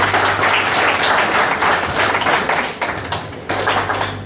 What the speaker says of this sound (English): Can I request that we give the ambassador a more befitting hand clap?